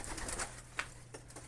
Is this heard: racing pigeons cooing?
yes